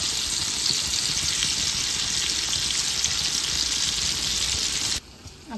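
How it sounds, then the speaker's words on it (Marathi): Fish pieces frying in a pan while a prawn curry cooks, a dense, steady, close sizzle hissing without pause, then cutting off abruptly near the end, with no talk. "इथे आपली तुकडी पण फ्राय होत आहे"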